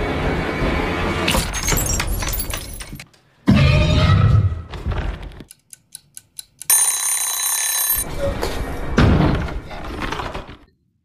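An alarm clock rings and a picture frame falls in a horror film, with loud crashing bursts, a hush of soft ticking clicks, then a bright sustained ringing tone before more heavy clatter.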